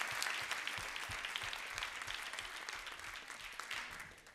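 A crowd claps at a 2011 AMFI public speaking event, honouring a speaker; dense, even applause carries on steadily for several seconds with no voices over it.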